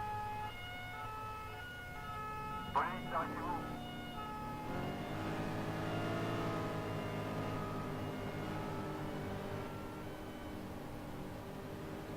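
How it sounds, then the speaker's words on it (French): A wailing ambulance siren sounds steadily for a long stretch, moderately distant, with French street noise and brief voices in the background. "ambulance"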